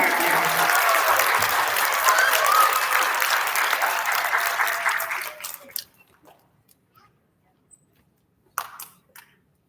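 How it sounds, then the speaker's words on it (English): Applause for kindergartners at an elementary school recognition ceremony: steady, fairly loud clapping from a crowd for about five seconds, then fading to a few scattered claps and quiet room noise. "Nice big round of applause for our kindergartners"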